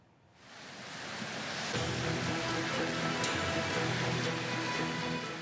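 The Gelis River runs in flood after days of heavy rain, its strong current giving a dense, continuous roar of rushing water that swells in over the first half-second and then holds steady and close.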